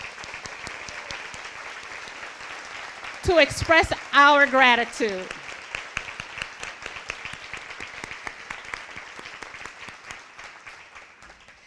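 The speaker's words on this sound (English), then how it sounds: "please join me in a collective applause" An audience bursts into steady, fairly loud applause at a philanthropy event, the clapping carrying on at length after someone speaks briefly over it.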